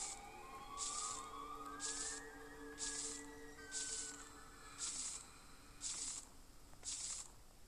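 Siren Head's wailing call echoes through a forest in a horror survival video game, a faint distant siren tone pulsing in eight regular bursts about a second apart.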